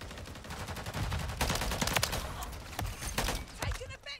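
Rapid gunfire bursts in the video game Call of Duty MW3 as the player takes hits, loud cracking shots in clusters with brief gaps, mixed with game action noise.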